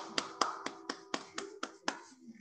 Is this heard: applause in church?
yes